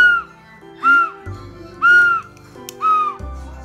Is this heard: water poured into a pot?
no